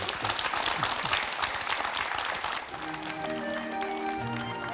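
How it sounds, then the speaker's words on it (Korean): An audience at a televised Korean talk event claps warmly, a full burst of applause that is loud at first, then thins and fades while a soft musical tone enters underneath. "고생하신 사모님 위해서 박수 좀."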